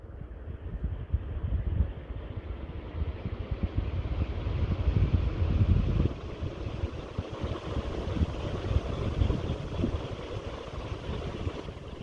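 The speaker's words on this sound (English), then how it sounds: "And now, let's listen to the Superfan Q series fan." A Super Q series BLDC ceiling fan running: a smooth, continuous airy rush with a low rumble, soft and even throughout with no motor whine, and no voices.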